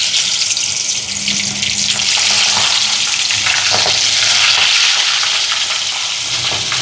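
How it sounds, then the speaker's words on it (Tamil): Prawns frying in hot oil for a Jaffna seafood puttu kottu, a loud, continuous close sizzle with crackling and stirring throughout. "இறாலை பொரிச்சு எடுப்போம்."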